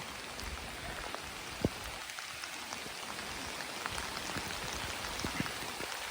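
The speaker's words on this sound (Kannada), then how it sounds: "ಮಳೆ ಸ್ಟಾರ್ಟ್ ಆಯ್ತು, ಸೂಪರ್ ಮಳೆಯಲ್ಲಿ." Steady rain patters across a surface with scattered louder drops, forming a constant soft wash of sound, without any talking.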